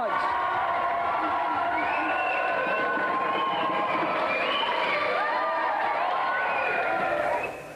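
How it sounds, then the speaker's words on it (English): Studio audience clapping and cheering for three game show contestants on Gamesmaster, a steady dense wall of applause with whoops and shouts running the whole length before cutting off at the end. "Another round of applause then for our three contestants."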